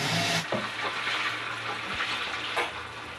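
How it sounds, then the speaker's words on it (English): Fish frying in a pan for a masala curry, a steady broadband sizzle that runs through the whole stretch. A few clinks and scrapes sit on top, with no voices. "this is the fish which I am frying."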